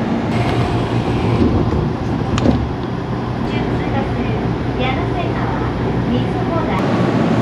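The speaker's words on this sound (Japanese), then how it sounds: "ホームにちょうど電車が来ましたので、こちらに乗車します" A commuter train pulls in at a station platform in Saitama heading toward Kawagoe, with a loud, continuous rumble and rail noise, a brief squeal, and a voice talking over it.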